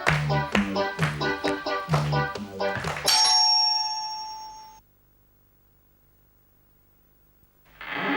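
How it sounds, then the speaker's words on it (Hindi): A doorbell on a Hindi TV comedy show plays a bright, loud multi-note chime melody, ending in a lingering ring that fades into near silence before another short sound near the end. "घंटी बजाओ, अंदर जाओ।"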